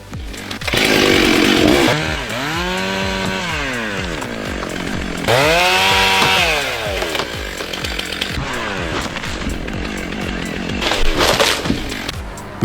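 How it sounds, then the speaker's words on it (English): A chainsaw cuts into a tree, its engine loud and close, revving up and down in repeated swells as the chain bites into wood, with no voices. "With skills like that, someone needs to confiscate his chainsaw ASAP."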